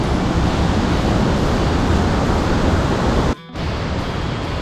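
Khlong Lan waterfall in Thailand, swollen at the end of the rainy season, pours a dense, steady roar that fills the air, briefly dipping for a moment before surging back.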